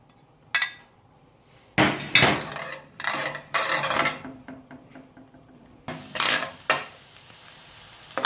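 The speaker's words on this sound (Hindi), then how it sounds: "प्याज को हल्का फ्राई कर लेना है" Onion and green chilli lightly frying in a pan for bread samosa, with bursts of spatula scraping and clinking against the pan over a soft, faint sizzle. Quiet pauses fall between the stirring strokes.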